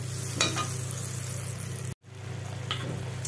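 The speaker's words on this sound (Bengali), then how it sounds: "হলুদ, এখন ভালো করে আমি কষিয়ে নেব।" Prawns are sautéed with turmeric in a pan, a steady medium sizzle with a few stirring scrapes and a brief cut of silence midway, no talking.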